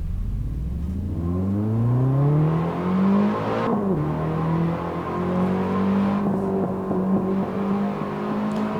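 Race car engine in a VR racing sim, revving up through rising gear pitches with shifts, loud and close, steady acceleration throughout with no talk.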